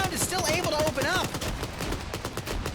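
Rapid bursts of 7.62 machine gun fire from a 200-round weapon crackle through an Arma 3 infantry battle, dense and steady, with a voice briefly heard near the start.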